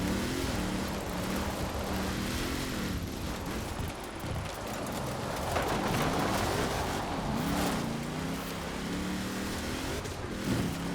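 A TVR sports car in Forza Horizon 4 drives off-road, its engine droning loudly while the pitch climbs and drops through gear changes, mixed with a steady rush of wind and road noise.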